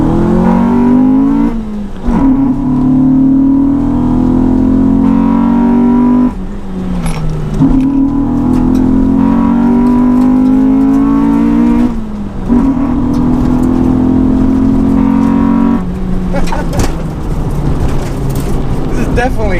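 A modified Honda Civic EK hatchback race car engine revs hard and climbs in pitch several times as VTEC engages high up, each pull broken by a gear change, loud and close from inside the car.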